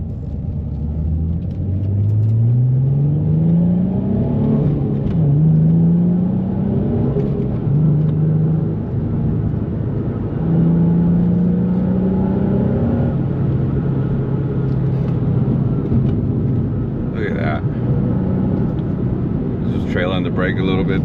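A 2004 Nissan 350Z driving and accelerating through corners: loud engine drone rising in pitch through repeated revs and shifts, with tire and road rumble underneath, and someone talking over it.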